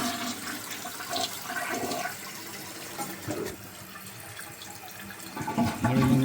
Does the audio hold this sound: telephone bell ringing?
no